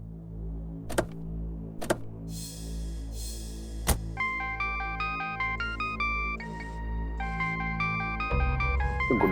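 A phone rings with a repeating electronic ringtone melody over a low background hum, preceded by a few sharp ticks, in a dramatized crime-story setting.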